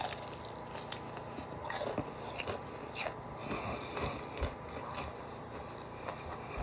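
Chicken wings with sweet and sour sauce are bitten and chewed up close, giving a run of soft crunches and wet squishes in an irregular rhythm with no talking.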